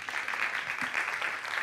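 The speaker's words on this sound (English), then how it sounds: "I would like to invite a round of applause for our friends from Brussels" Applause from a forum audience of young people in Tokyo, welcoming guests from Brussels: a steady, fairly distant wash of many hands clapping at even loudness, with no talk over it.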